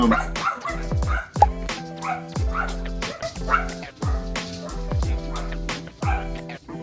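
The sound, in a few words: dogs barking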